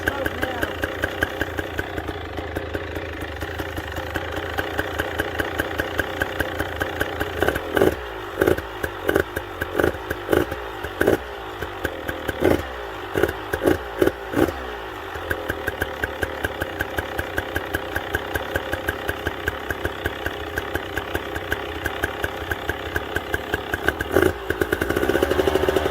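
A 2020 KTM 300 XC-W TPI two-stroke dirt bike engine idles steadily nearby, with a run of quick throttle blips in the middle, then settles back to a buzzing idle.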